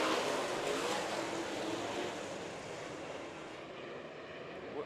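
Late model race cars roar past at Bakersfield Speedway during the Budweiser Nationals, a loud, continuous engine rush that slowly recedes, with no talking.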